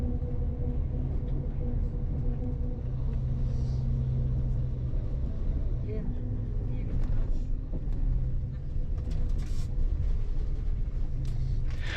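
A Bus Éireann coach drives the old coast road near Oranmore, its engine giving a steady low rumble with road noise throughout while a voice speaks over it.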